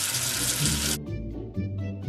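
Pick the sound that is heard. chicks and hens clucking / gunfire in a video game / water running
water running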